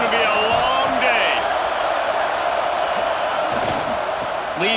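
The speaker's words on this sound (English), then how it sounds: "This crowd, full throat, splitting the eardrums" Roaring crowd at an Oklahoma football game, a loud, continuous wall of cheering and yelling with a play-by-play announcer talking over it.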